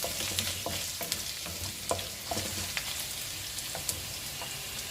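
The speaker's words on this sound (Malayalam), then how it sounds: "ബാക്കിയുള്ള വെളുത്തുള്ളിയും ആ കൂടെ തന്നെ ഇഞ്ചിയും ചേർത്ത് 1 മിനിറ്റ് ഒന്ന് വഴറ്റാം" Garlic and ginger sautéing in a pan for beef curry, a continuous crackling sizzle with frequent spatula scrapes and taps against the pan, close and steady without speech.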